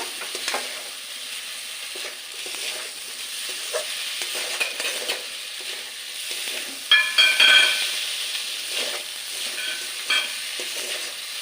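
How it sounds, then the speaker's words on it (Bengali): Steady sizzling of sago pearls lightly frying in a pan, with occasional scraping and stirring clicks over a constant hiss. "আমি একটু হালকা করে ভেজে নেব।"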